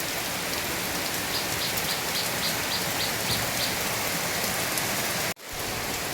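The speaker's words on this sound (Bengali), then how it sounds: "এখন আবার বৃষ্টির আবার একটু ভারী টাইপের হয়েছে" Dense, heavy rain pours steadily, drumming on surfaces without a break, then cuts out sharply for a moment near the end.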